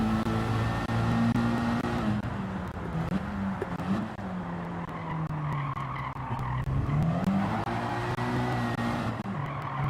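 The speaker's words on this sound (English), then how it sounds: "Too early on the throttle, a lot of understeer" A race car in Gran Turismo 7 pushes wide under early throttle, its tires squealing and skidding for long stretches while the engine drone rises and falls, loud and close, with no voices.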